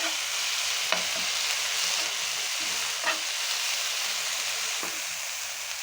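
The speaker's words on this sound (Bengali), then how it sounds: "এইভাবে আপনারা ঝরঝরা করে শাকগুলোকে ভেজে নেবেন।" Jute leaves (pat shak) stir-fried in a pan give a steady sizzle with a few scraping stirs of the spatula. The cooking is close and moderately loud, with no voices.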